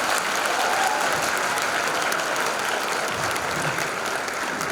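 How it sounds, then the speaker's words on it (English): Dense, sustained applause from a school concert audience after middle school band solos, a full hall of clapping that stays loud and even throughout. "Can we give another round of applause for the solos?"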